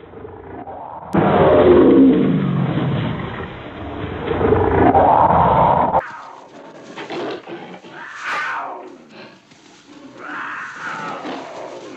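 A male lion and a leopard fight in the wild, with loud, harsh roars and snarling growls that surge in two long bursts and are followed by shorter grunts and snarls nearby.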